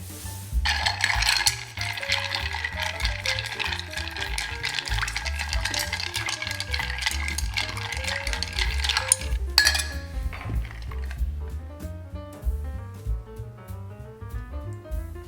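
Ice clinks and rattles as a cocktail of vermouth and Aperol is stirred in a glass, a rapid, continuous metallic-glassy jingling that thins into lighter, sparser clinks near the end.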